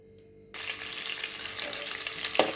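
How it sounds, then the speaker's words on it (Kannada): Mustard seeds and chana dal hit hot tempering oil for tomato bhath. The clip opens on near-quiet, then a steady, close crackling sizzle starts after about half a second, with one sharper pop near the end. "ಸಾಸಿವೆ ಆದ ತಕ್ಷಣ ಸಾಸಿವೆ ಚಿಟಪಟ ಅನ್ನಲಿ ಅಷ್ಟೊತ್ತಿಗೆ ಕಡಲೆಬೇಳೆ ಸ್ವಲ್ಪ ಕಡಲೆಬೇಳೆ ಒಗ್ಗರಣೆಗೆ ಹಾಕ್ಕೊಂಡ್ರೆ ಚೆನ್ನಾಗಿರುತ್ತೆ"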